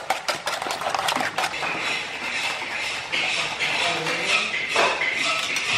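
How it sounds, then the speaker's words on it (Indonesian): Duck eggs with chopped spring onion being beaten in a bowl, quick clinking taps and sloshing strokes in an uneven rhythm, close by, with someone talking over much of it. "ya sobat pastor kita kocok dulu begini"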